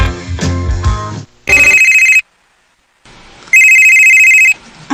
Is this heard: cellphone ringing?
yes